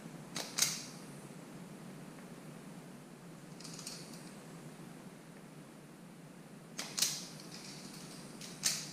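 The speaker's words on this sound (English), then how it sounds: "I'm going to strip a little bit of end on these wires" A few quiet, sharp snips from stripping insulation off wire ends while installing side LED lights on a 2018+ Goldwing, spaced several seconds apart over a faint steady background hiss.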